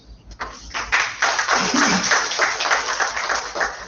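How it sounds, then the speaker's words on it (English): Conference audience at a valedictory session applauding, a dense burst of clapping that starts abruptly and stays fairly loud and even for a few seconds, with muffled voices underneath. "I think all of you deserve a very big round of applause."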